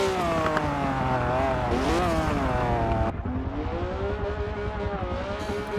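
A race car drifts through a slalom at a Daytona event, its engine revving loudly and continuously near at hand, with pitch sweeping up and down as it slides through the turns.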